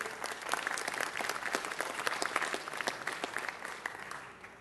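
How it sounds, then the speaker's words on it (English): Applause from a council meeting audience, a dense patter of many hands clapping steadily for several seconds, moderately distant, with no talk over it. "So please give Nomad Design of Elysian Valley a big round of applause, too"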